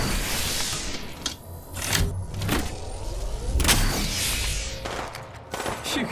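Shield recharging in the shooter game Apex Legends, heard as rising, whirring electronic sweeps mixed with sharp bursts and distant gunfire-like cracks through the game soundscape.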